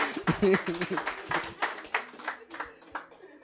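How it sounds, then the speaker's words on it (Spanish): A church congregation claps in praise during a sermon, a burst of scattered hand claps mixed with voices, moderately near and fading over the few seconds. "Dale un aplauso al Señor"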